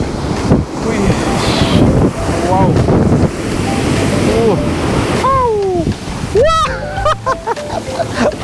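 Sea waves wash and roar at Poovar where the river meets the sea, with strong wind buffeting the microphone, while people talk and call out over the surf.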